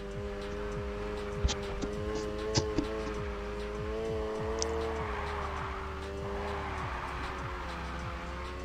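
Engine of a car drifting in a video game, revving with steady harmonic drone and repeated rising-falling pitch sweeps as it accelerates and countersteers, alone with a few brief clicks.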